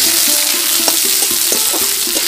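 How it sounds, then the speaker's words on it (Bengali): Chopped onions and garlic fry in a pan until lightly browned, with a close, continuous sizzle and repeated scraping stirs that come at a brisk, uneven rhythm. "পেঁয়াজ আর রসুন হালকা লাল করে ভেজে নিয়েছি"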